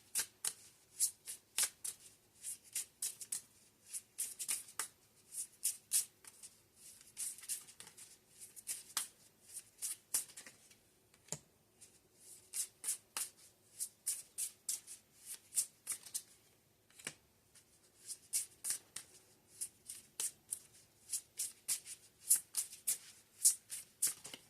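Tarot cards being shuffled by hand during a reading, a long run of quick riffling bursts and soft slaps that repeat in uneven rhythm, close and fairly quiet, with no talking.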